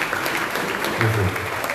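Applause at a school felicitation ceremony in Goa honoring HSSC and SSC board exam achievers, a steady, moderately loud patter of clapping from the audience that lasts the whole moment, with faint murmuring underneath.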